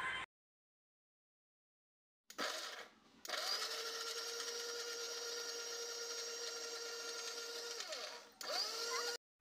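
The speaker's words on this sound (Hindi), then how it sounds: "अब हम इसको अच्छे से ग्राइंड कर लेंगे।" Electric mixer grinder blending cooked shahi paneer masala after it has simmered, a steady high-pitched whirring motor with a brief start, a pause, then a long continuous run and a short final burst.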